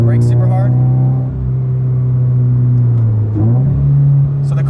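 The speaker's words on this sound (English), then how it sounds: "you can hear I'm bringing it up to Redline, and then when I let off the throttle, the car holds its gear" Toyota 86 engine in sport mode revving steadily up toward redline, a loud sustained rising drone, then easing off the throttle with a brief dip and the engine holding gear, a voice talking over it.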